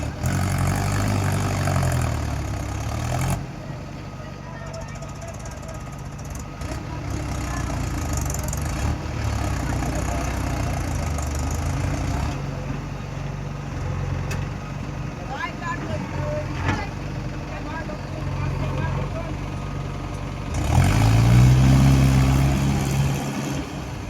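A Mahindra tractor engine idles with a low, steady diesel rumble that rises into louder revving bursts near the start and again toward the end, while people talk nearby over the engine.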